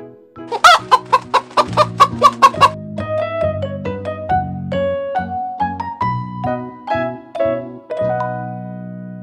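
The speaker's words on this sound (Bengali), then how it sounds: "মেয়ে মুরগিকে বাংলায় বলে মুরগি, ইংরেজিতে বলে হেন।" A hen clucking in a rapid, loud burst of close calls, then settling into a steadier run of softer, drawn-out clucks and murmurs, with no voices.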